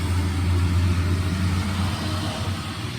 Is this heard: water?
no